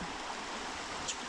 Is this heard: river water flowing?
yes